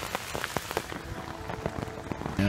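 Torrential rain drips and patters onto a military poncho shelter at a campsite, a dense, loud, close patter with irregular heavier drops hitting throughout.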